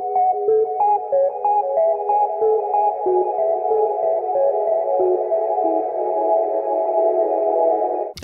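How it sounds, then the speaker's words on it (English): A synth arpeggio run through a convolution reverb built from a paper-crumpling impulse response gives a steady, sustained mid-range tone with rapid repeating notes and a smeared, hazy tail, with no voices and an abrupt cutoff at the end. "I could just record some paper crumpling with my laptop mic and apply it to this ARP from my own free sample pack"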